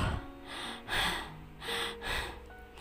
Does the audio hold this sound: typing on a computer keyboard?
no